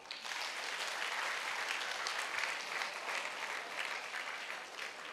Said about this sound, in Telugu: ముందుగా వాళ్ళందరికీ కూడా చప్పట్లు.